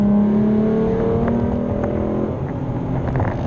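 Revving V6 engine of a Roush RS Mustang, naturally aspirated, a loud steady engine roar with rising harmonic tones, close up and continuous with no talk.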